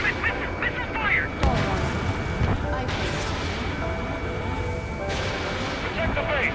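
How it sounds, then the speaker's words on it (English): Missile launches and heavy weapon fire during an Ace Combat 7 air battle, with booming blasts and whooshing streaks over constant jet and combat roar, while radio voices talk over the noise. "Missile fire!"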